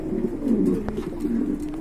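Large pigeons of a quality breeding pair coo in a low, continuous rolling murmur, close by and steady, with a brief sharper click partway through.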